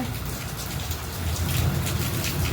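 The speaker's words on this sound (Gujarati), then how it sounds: "વરસાદ અત્યારે ચાલુ થઈ ગયો છે" Heavy rain pours down in a steady, dense hiss with a low rumbling undertone, close by and uninterrupted, with no talking.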